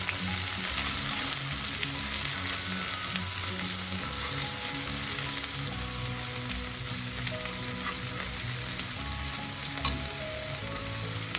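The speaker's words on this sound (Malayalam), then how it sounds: "ക്രഷ് ചെയ്ത് വെച്ചിരിക്കുന്ന വെളുത്തുള്ളി, ഉള്ളി, ക്രഷ്ഡ് ചില്ലി എല്ലാം കൂടെ" Crushed garlic, onion and crushed chilli fry in oil for red cowpea stir-fry, a dense continuous sizzle with soft stirring scrapes mixed in throughout.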